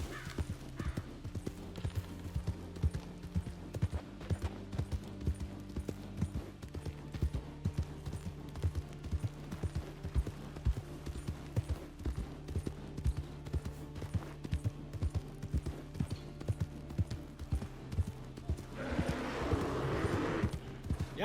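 Steady clip-clop of horse hooves from riding in Red Dead Redemption 2, a continuous rhythmic gait under game ambience, with a brief louder burst of noise near the end.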